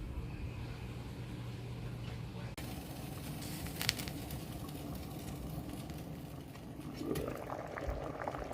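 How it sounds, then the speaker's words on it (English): Quiet, steady bubbling and gurgling of water boiling in a covered pot for making black sweet rice cake, a soft continuous churn with occasional louder pops. "Cover the pot and bring it to boil."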